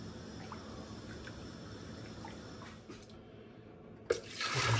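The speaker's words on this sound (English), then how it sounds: "Pour my dense sugary water into the demijohn." Thick sugar syrup, a litre of water with a whole bag of sugar dissolved, is poured into a demijohn jug for peach and apple wine, a soft continuous liquid trickle with a brief louder splash near the end.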